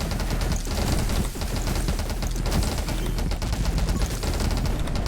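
Grenade launcher fire in the game 20 Minutes Till Dawn, set at Darkness 15 with the character Abby: a dense, continuous barrage of rapid blasts and pops, loud and steady throughout with no pauses.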